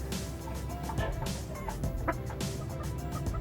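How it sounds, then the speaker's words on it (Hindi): Rhode Island Red breeder chickens in a poultry farm setup in Pakistan give continuous nearby clucking and gobble-like calls, several birds overlapping in a busy, steady chorus. "ये RIR का इनका सेटअप है, देखें माशाल्लाह प्योर क्वालिटी के ब्रीडर।"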